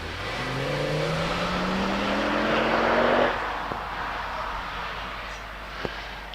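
Rally car 131, the GBS Zero, accelerating hard up a hillclimb course, its engine note rising through gears with a loud, close roar that peaks and then fades into distant engine drone.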